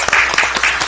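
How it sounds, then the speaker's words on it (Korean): Applause at a Korean political party leadership meeting, a dense, loud burst of many people clapping together, continuous and close for the short moment it lasts. "박수도 쳐드려야 되는데 아직 한 번도 안 했죠"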